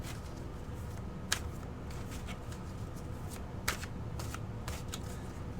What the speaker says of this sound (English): I'm going to go ahead and shuffle those cards